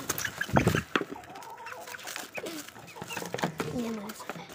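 A hen clucks close by in a yard, repeated short clucks among rustling and movement, with people talking over it.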